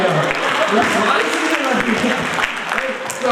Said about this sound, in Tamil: ஏங்க இதுக்கு ஒரு கைத்தட்டல்